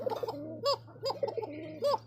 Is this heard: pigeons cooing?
yes